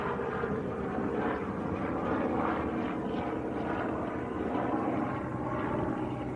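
A Robinson R44 helicopter passes by an airport, a steady droning rotor and engine roar that stays fairly constant and moderately distant throughout, with no talking.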